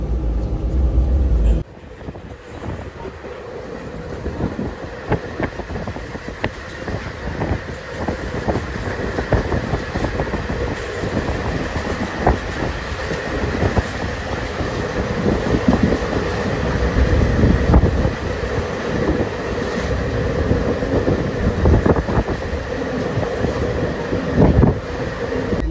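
A passenger train runs along the tracks, heard from inside the carriage as a continuous rumble with rhythmic clickety-clack and a steady mechanical drone.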